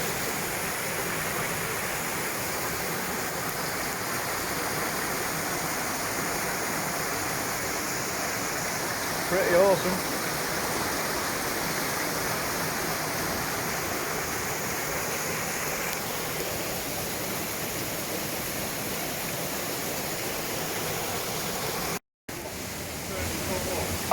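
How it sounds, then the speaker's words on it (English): A waterfall in a Scottish forest riverbed at Loch Ard Forest roars as a constant broadband rush of water, loud and unbroken throughout, with someone briefly speaking over it. "we finally found, I think it was the waterfall."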